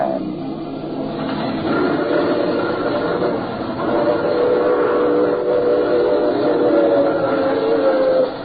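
A train runs steadily as a radio drama sound effect, its continuous rumble and rattle holding at an even, fairly loud level for the whole stretch with no voices over it.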